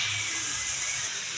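Pot of soup with okra, sweet potato tops, taro and Malabar spinach boiling steadily, a continuous close hiss with a low bubbling rumble underneath.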